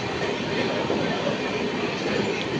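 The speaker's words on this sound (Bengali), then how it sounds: "আমাদের ট্রেন এখন তার দ্বিতীয় স্টপেজ দক্ষিণেশ্বরে দাঁড়াবে" Uttarbanga Express train pulling into Dakshineswar station, a steady loud rumble of rolling carriages and wheels on rail filling the whole stretch, with no pause or change.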